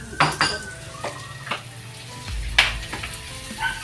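Tomatoes drop into a hot frying pan and sizzle steadily, with clinks of a utensil against the pan scattered through the short stretch.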